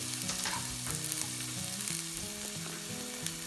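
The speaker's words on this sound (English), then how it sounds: "I am going to basically just fry the onion for maybe a minute" Half an onion, diced large, sizzles steadily in a spoonful of hot oil in a pan, a close, continuous frying hiss with light stirring and no voices.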